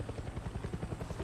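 A helicopter in the video game Far Cry 6, its rotor throbbing in a steady fast rhythm, moderately close and fairly quiet, with no talk over it.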